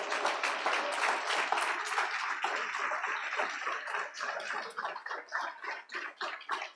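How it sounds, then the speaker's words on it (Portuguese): A church congregation applauding, dense hand clapping that carries on steadily and then thins into looser, more scattered claps toward the end. "Você pode aplaudir"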